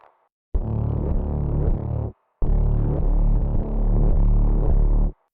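The same Vital synth bass with a different filter setting, darker and gritty with a throbbing, distorted tone, heard in two loud phrases separated by a short break, alone with no voice.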